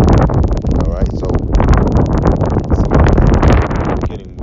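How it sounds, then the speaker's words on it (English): Wind gusting outdoors and buffeting the microphone, a loud continuous rumbling roar with rustling under someone speaking. "getting windy out of nowhere out here."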